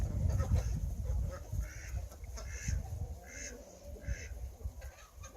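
Ducks and chickens feed on sunflower sprout fodder nearby, with soft scattered clucks and quacks over rustling and pecking sounds, fairly quiet and close.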